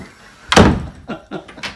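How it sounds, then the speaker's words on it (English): A door with a knob swings shut in one sharp, loud thud, followed by a few lighter clicks and taps of the latch and handle settling. "Feels like a door with a knob."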